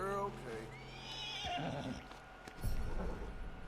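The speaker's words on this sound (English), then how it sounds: "we then decide to go and sort of tame this horse" A horse in Red Dead Redemption 2, set in a snowy valley, gives a whinny with rising and falling pitch early on, followed by snorts and hoof shuffling, while someone speaks softly over it.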